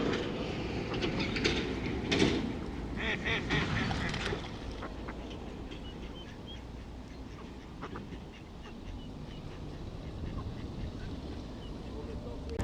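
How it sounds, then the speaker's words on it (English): A crowd of ducks quacks all around a fishing spot outdoors, a dense, busy chorus that is loudest early on and then settles into steady background chatter. "Loads and loads of ducks just round us."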